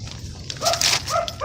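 Dogs bark outdoors in the morning at a camp-out, a few short sharp barks and yips close by over faint background noise, with no talk.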